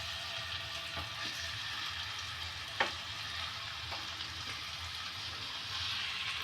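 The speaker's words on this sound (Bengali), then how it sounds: "এবার এক পাশ করে করে ভেজে নেব কিছুক্ষণ।" Chicken tandoori pieces frying in a pan, heard as a steady close sizzle with a few sharp crackles and pops, and no talk.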